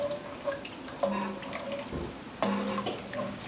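Water poured into a pot of oxtail stew in a home kitchen, a steady splashing stream swelling in bursts, close and moderately loud, with no talking.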